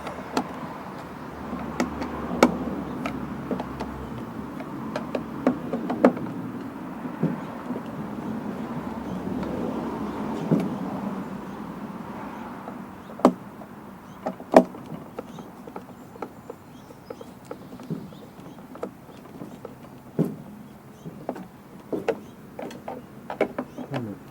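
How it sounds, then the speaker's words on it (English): Close clicking and ratcheting as housing bolts are tightened one after another on an Echo PB770 backpack blower, a string of sharp metallic ticks and clacks with pauses between, no voices. "now I'm just going around all the housing bolts and making them nice and tight"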